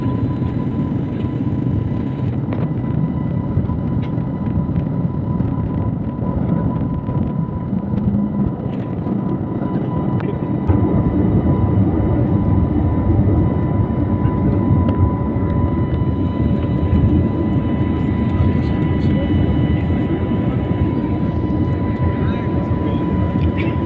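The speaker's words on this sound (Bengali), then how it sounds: "তো এবার আমাদের জাহাজ আকাশে উঠতে চলেছে" Inside the cabin of a passenger airplane taking off from Kolkata, a steady, loud, low engine roar fills the space continuously, with a faint tonal hum above it and soft talking underneath.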